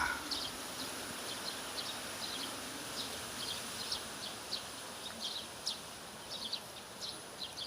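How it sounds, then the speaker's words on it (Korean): Faint, repeated high chirps of birds sing over a steady broadband outdoor hiss, the calls coming in short bursts throughout. "아주 새소리가 좋네요."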